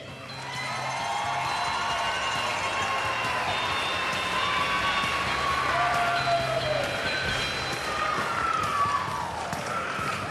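An audience at a Dancing with the Stars for Hope charity show keeps up sustained applause and cheering while music plays underneath, filling the whole stretch without a break.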